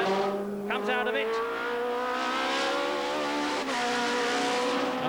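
Touring cars from the 1992 British Touring Car Championship at Donington race through a left-hand corner with loud, sustained engine roar and shifting pitch, plus a brief squeal, under a race commentator's continuous talk.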